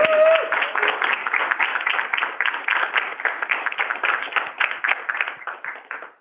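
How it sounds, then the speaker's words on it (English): An audience at a government technology awards event claps steadily, a dense patter of many hands at moderate distance that swells and fades in small waves before tapering off at the end. "So round of applause for each."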